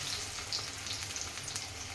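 Sweet corn pakodi deep frying in hot oil, a continuous faint crackling sizzle with scattered pops, steady and alone.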